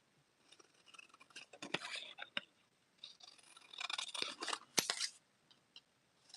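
Scissors cut through paper at close range, producing a series of soft, crisp snips and rustles in irregular bursts against near silence.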